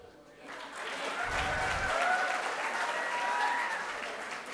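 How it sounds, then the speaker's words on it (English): A crowd claps steadily and loudly for several seconds, a dense, sustained round of applause that swells slightly and holds. "let us also clap for the robot"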